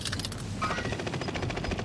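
PPSh-41 submachine gun in an online shooter game firing a fast continuous burst, rapid even rattle of shots, loud and close throughout.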